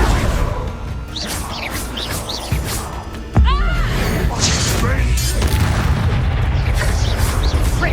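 Confringo blasting spell going off in Hogwarts Legacy, a sudden loud boom around the midpoint over a busy bed of combat effects, with voices talking through the game action.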